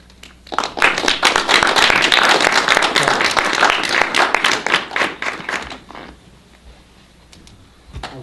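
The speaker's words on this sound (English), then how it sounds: "Let's give them another round of applause" An audience applauds the speakers at an evening session at Ananda Village. Dense, loud clapping builds quickly, holds for several seconds, then thins to scattered claps and fades.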